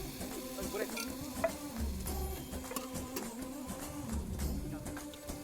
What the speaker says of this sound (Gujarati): હવે ડુંગળી લસણ નાખી ટામેટા નાખીશું